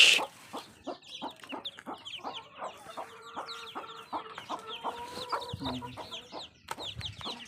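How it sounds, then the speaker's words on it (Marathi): A broody hen with newly hatched chicks clucks near a rural coop, giving repeated short clucks while high peeping chirps from the chicks scatter throughout. A lower call surfaces toward the end. No one speaks. "इथं आपण एक कोंबडी बसवलेली आहे. तिने पिल्ले फुललेले आहेत."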